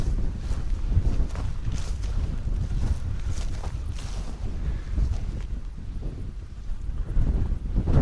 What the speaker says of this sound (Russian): Ветер, конечно, обалденный сегодня.